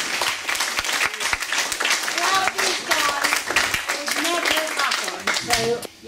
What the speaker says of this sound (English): you can all stand up and have a round of applause